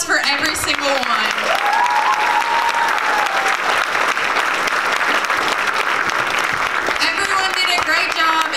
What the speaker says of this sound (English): Round of applause for every single one.